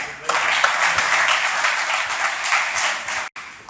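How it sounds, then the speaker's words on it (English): A seated audience at a rural economic development event applauds a minister arriving on stage, with dense sustained clapping that holds steady for a few seconds before breaking off abruptly. "So without further ado, please join me in a round of applause welcoming our MPP, Dave Puccini, the Minister of Labour."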